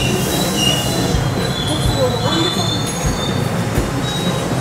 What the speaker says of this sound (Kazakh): Міне біздің электричка келді.